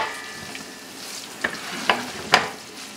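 Tomato paste stirred into a sautéing pan for milkfish stuffing, with a soft steady sizzle under several distinct scraping strokes of a utensil against the pan, close and moderately loud.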